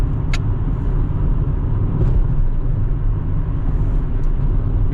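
Toyota Camry cruising on a road at about 60, heard from inside as a steady, loud low rumble of engine and road noise with tire hum, unbroken and constant, no talking.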